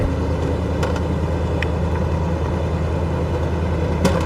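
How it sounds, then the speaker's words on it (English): Old SUV engine held at full throttle, a loud, steady droning roar with deep rumble that stays even from start to finish, heard from close by. "Fully on the throttle now. I mean, it makes a lot of noise."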